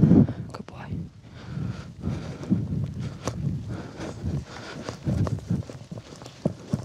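Hooves of a horse ridden through a jumping grid in eventing clip-clop across the span, uneven thuds and scuffs with wind noise on the microphone, while a rider talks over them.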